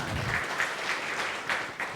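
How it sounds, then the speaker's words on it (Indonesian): A church congregation claps steadily throughout a worship service, a dense and moderately distant wash of applause with a few sharper accents. "Yang mau berikan tepuk tangan meriah buat Tuhan kita"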